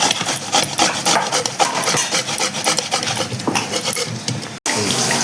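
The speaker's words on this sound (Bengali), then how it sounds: "একটা টমেটো আমি গ্রেট করে নিচ্ছি।" A tomato rubbed on a grater, a close run of quick rasping strokes that keeps going with a brief break near the end, and no talking.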